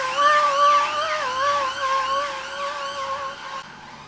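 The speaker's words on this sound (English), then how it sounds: "Fucking sirens." Emergency vehicle siren wailing in rising and falling sweeps, steady and moderately loud from a short distance, heard on its own.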